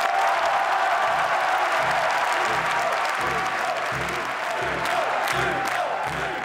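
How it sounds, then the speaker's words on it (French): Party members at a political election result erupt in sustained applause and cheering, a thick crowd roar with rhythmic clapping pulses running through it, loud and continuous across the whole stretch. "Bruno Gollnisch reste très applaudi."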